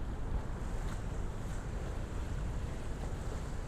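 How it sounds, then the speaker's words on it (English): Steady wind roars and buffets the microphone high on a seaside promenade, with surf faintly beneath, continuous and fairly loud throughout. "So we're up on this high promenade in the wind."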